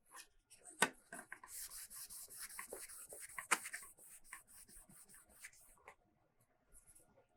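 A damp cloth rubs glue off a 3D-printed part on a carbon-fibre print surface, giving soft, close scrubbing strokes in a quick irregular rhythm with a couple of sharper contact ticks, fading out near the end.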